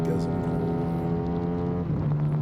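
A race car accelerating at full throttle around the Nogaro circuit, its steady, loud engine drone holding a strong low tone without a break throughout.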